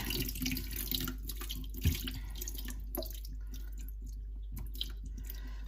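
Water draining out of a bowl of soaked sweet potatoes into a sink, a steady running trickle with occasional drips and a soft knock, moderately close and without talk.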